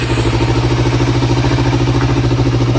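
A Kawasaki ER5 twin-cylinder motorcycle engine runs close by on a cold day with a weak battery, a loud, steady, throbbing idle with even pulses and no talk.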